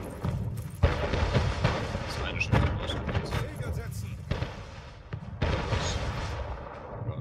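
Cannon fire against a boat in the strategy game Anno 1800: several separate booms and thuds land a couple of seconds apart, under people talking excitedly.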